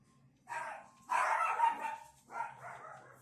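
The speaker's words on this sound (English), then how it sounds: "That's my dog barking at the front door." A dog barks at a front door indoors in several bursts, somewhat muffled and set apart from the listener, while a faint steady tone runs underneath.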